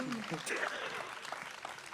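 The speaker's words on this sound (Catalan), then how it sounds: "Demano aplaudiment per la Marimar" Applause for Marimar at an International Pride Day event, fairly faint clapping from a crowd, with voices talking over it.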